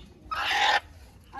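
A hen with a damaged eye lets out a single short, nasal squawk close by, which stands out against a quiet background.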